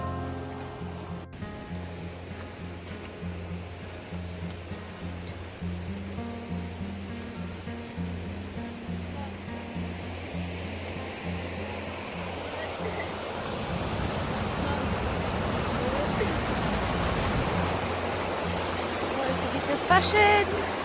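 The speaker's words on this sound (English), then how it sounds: "we're going to walk over the waterfall." A waterfall rushes steadily, faint at first beneath a low droning hum and voices, then swelling into a louder, fuller roar of water in the second half.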